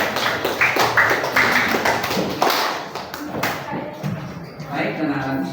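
Classroom applause for a student group after their presentation, a steady patter of many hands clapping that fades and swells, with voices mixed in underneath.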